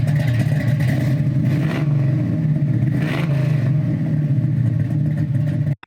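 Classic car engine running loud and close with a steady low rumble and mild revving swells, continuous for several seconds before cutting off abruptly.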